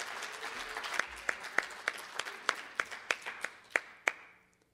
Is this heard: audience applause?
yes